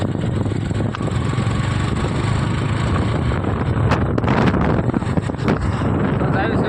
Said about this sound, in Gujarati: પવન ખૂબ મસ્ત છે.